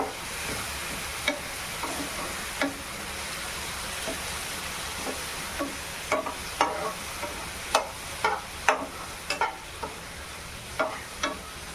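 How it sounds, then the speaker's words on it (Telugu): A spoon stirs gobi 65 mixture in a small bowl, giving irregular clinks and scrapes against the bowl over a low steady background, growing more frequent toward the end. "చిన్న గడ్డికాయలో స్పూన్ తీసుకొని కలుపుకోండి."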